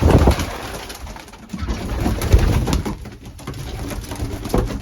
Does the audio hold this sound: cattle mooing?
no